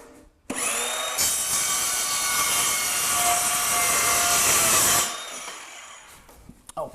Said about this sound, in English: Now I'm going to use a small circular saw.